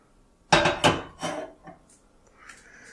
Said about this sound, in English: I'm going to go ahead and put our lid back on.